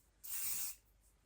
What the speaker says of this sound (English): I just got a little L-net spray